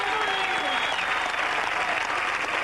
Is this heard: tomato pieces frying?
no